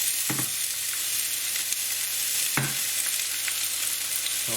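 Onions frying in heated oil for chicken pathia, a loud, close, continuous sizzle punctuated by two sharp spoon knocks against the pan, with no voices.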